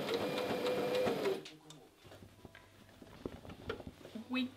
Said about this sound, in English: Right now we need to sew those